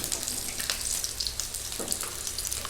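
Fish fry in hot oil in a home kitchen, a close, steady crackling sizzle with small pops, heard alone without any voices.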